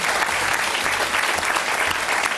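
Studio audience at a French television show breaks into sustained, lively clapping, loud and even for a couple of seconds, with a faint low hum beneath.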